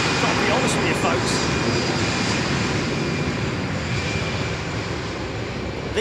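Lufthansa jets with CFM engines roar at Heathrow, a loud, steady broadband rumble that holds for the full stretch, with voices talking over it.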